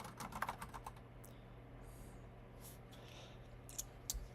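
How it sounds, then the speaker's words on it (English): Someone types on a computer keyboard while coding, a quiet scatter of irregular clicks that bunch into short bursts, with no voices. "I can't type on this keyboard yet."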